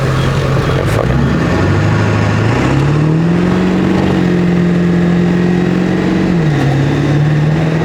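Ford 7.3L Powerstroke diesel truck doing a boosted launch from a standstill, a loud close engine drone climbing in pitch through the gears with brief dips at each shift, continuous and without talk.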